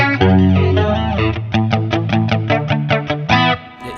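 Electric guitar played through a BOSS BF-1 flanger pedal, a run of picked notes and chords with a swirling, sweeping effect, close and loud with no talk.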